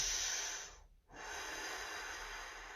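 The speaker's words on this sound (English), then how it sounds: "So you breathe in, stomach out, and breathe out, stomach in" A singer breathes deeply during a vocal warm-up, drawing in a long, close, airy breath that fades into a brief pause before a steady exhale resumes.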